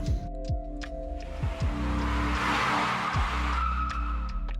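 Car tires skid and squeal continuously while the car spins in circles, with a steady engine drone and repeated rising screeches.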